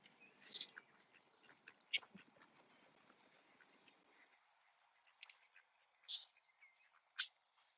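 Ducks quacking in an outdoor pen with rats nearby: several short, faint quacks scattered irregularly over a soft rustling background, some clearer calls toward the end.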